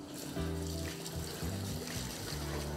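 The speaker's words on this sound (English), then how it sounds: "So half of our water goes in" Water pours steadily into a mixing tank for crop spraying, a loud continuous gushing splash with a hollow, resonant tone that shifts slightly as the level changes.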